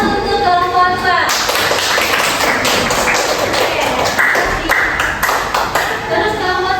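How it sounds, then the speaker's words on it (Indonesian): A classroom group claps for group 2 after its presentation, a sustained burst of applause with sharp taps and thumps, loud and close, lasting several seconds. "Aplaus untuk kelompok 2."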